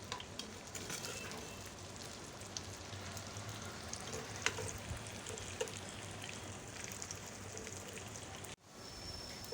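Onions fry in a pan of hot oil with a steady close sizzle and crackle, continuing without talk before a brief cut near the end.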